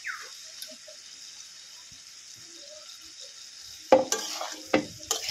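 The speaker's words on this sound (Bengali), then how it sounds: "এবারে ভেজে রাখা ফুলকপি আর আলুটা দিয়ে দেবো।" Fried cauliflower and potato go into a pan of cooked-down masala for a vegetarian curry: a faint sizzle runs quietly, then sharp clattering stirs and pan knocks break in near the end, with no voices.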